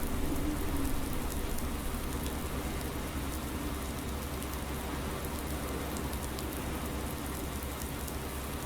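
Steady rain falls in the video game Farming Simulator 19, a continuous even hiss of drops on surfaces with a low rumble beneath, unbroken and without talk.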